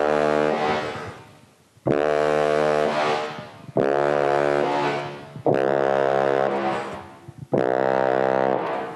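Five long, low trombone notes in the hard-to-produce dead-zone register, each blasted loud and held for about two seconds, brassy and buzzing, played alone without speech.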